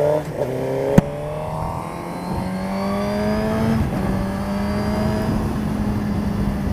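A race car's engine drones steadily as it pulls onto the Le Vigeant circuit, its pitch climbing through a gear with a sharp click near the start, continuous and close with no talking over it.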